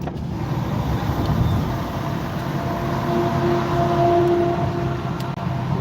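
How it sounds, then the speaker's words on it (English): A steady, loud roar of road noise fills the clip as a car hauler truck loaded with cars rumbles past on a highway, with a faint whine rising midway. "There's going to be a car hauler coming up to my left."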